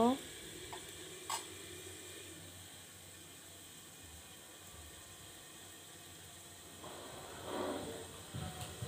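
Meat cooks slowly in a covered pan over low heat, releasing its oil with a faint, steady sizzle, broken by a soft clink near the start and some louder bubbling toward the end.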